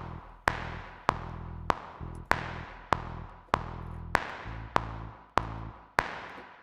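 Film music cue with a steady on-beat bass: deep sustained low notes struck on each beat, about ten even pulses with bright attacks and decaying tails, no voices.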